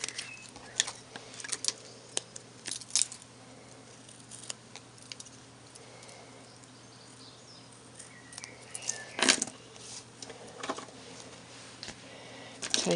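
Scissors cut a paper word out for a handmade card, giving quiet, intermittent crisp snips and rustles of paper at close range with pauses between cuts.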